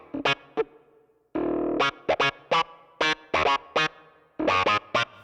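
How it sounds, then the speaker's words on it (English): A Nord Stage 3 keyboard plays a clavinet patch through an auto-wah: short, percussive staccato stabs in a funky, irregular rhythm, with one sustained, swelling chord in the middle, heard up close and alone. "that's what we want, gent clav. And our friend, the auto wah."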